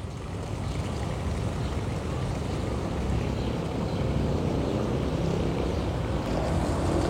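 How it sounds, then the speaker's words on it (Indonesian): Swift water rushes through a concrete-lined channel on Jalan Gabus Raya in a steady, broadband roar. It is continuous and fairly close, with no talking. "Bisa Anda saksikan nih pergerakan air lancar jaya, mantap tuh, lumayan bagus, lumayan deras."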